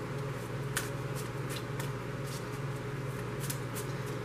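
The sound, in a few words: shuffling a tarot card deck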